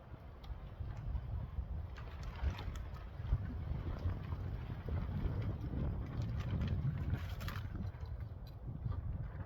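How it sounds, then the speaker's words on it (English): Steady outdoor wind gusting and rumbling across the microphone in open, dry country, a continuous low roar with no talk. "Yeah, there's that wind again."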